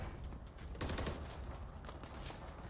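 Rapid bursts of automatic gunfire from a Call of Duty match crackle in quick succession, loud and dense, with no talk over them.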